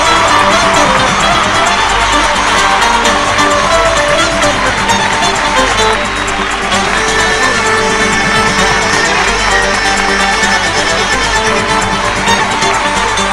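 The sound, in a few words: audience applause welcoming a contestant on a singing show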